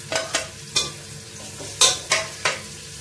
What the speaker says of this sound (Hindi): इसी ऑयल में फिर मैं प्याज डालूँगी।